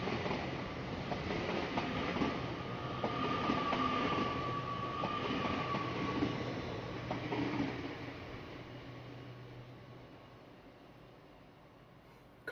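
An Avanti West Coast passenger train on the London Euston to Birmingham New Street service passes at Lea Hall, a steady rumble with wheel clatter and a faint squeal that swells and then fades.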